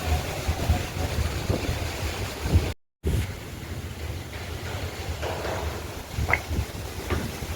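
Strong gusty wind after rain roars and buffets the microphone in a steady broadband rush, with a brief dropout and scattered knocks and rattles.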